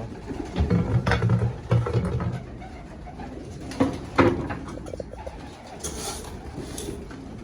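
Pigeons or doves on a rooftop coo and flutter while being fed a grain mix of wheat, corn and safflower, with soft cooing near and steady through the stretch and faint rustling movement underneath.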